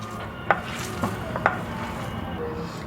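Minced meat worked by hand with spices for kofta gives soft, wet squelching and slapping, with a few sharper pats spaced about half a second apart over a quiet background.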